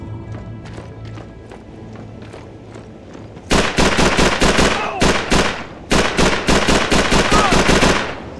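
Call of Duty 3 combat gunfire: after a quieter stretch, dense bursts of rapid automatic shots crack out loud and close, with a short pause before a second sustained volley.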